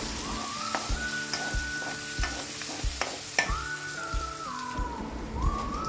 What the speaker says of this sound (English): Saute till the raw smell of the masala goes off.